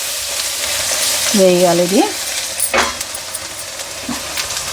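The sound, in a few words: chicken frying in oil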